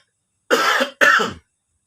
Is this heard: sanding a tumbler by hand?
no